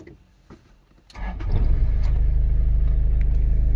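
A car engine cranks and catches during a driving lesson, a brief starter whir after quiet seconds, then settling into a steady, loud, close idle rumble.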